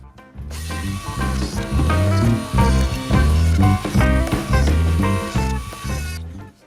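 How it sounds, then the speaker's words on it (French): A small drill grinds holes into wood for a scroll saw blade, in uneven, pulsing bursts, its pitch rising and falling as it bites, close and fairly loud without speech. "on va percer les trous pour pouvoir insérer la lame de la scie à chantourner"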